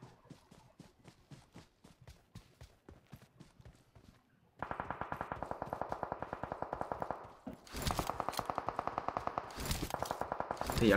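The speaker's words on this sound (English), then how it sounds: "I heard the gun sound that there." Rapid automatic gunfire in PUBG Mobile, including an M249 light machine gun, rattles in long regular bursts, softer and more distant at first, then louder and denser with sharp bright volleys near the end.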